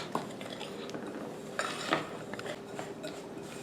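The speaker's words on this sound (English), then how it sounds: "I'm just going to keep mixing right there for a few minutes till we get that to the right crumble consistency." A utensil scrapes and clinks steadily against a bowl while blackberry crumble topping is worked toward a crumbly texture, close and fairly quiet.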